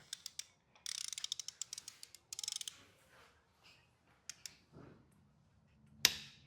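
A ratchet wrench loosens tight cylinder head bolts during a teardown of a blown TRX engine. Two quick runs of rapid clicking sound up close, followed by a few sparse knocks and one sharp metallic clank near the end.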